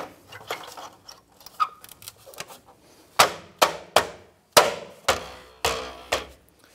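A wheel cap being fitted onto a rear wheel of a 2008-2013 Nissan Rogue, heard as a run of sharp, loud tapping knocks at an irregular pace that closes with several evenly spaced strikes.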